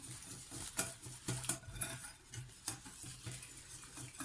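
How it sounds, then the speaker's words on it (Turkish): A whisk clinks and scrapes rhythmically against a pan, mixing flour into yogurt for a baked cauliflower gratin, with irregular metallic taps and rattles close by and no talking. "Pürüzlendirmeden bir çırpıyorum ikisini"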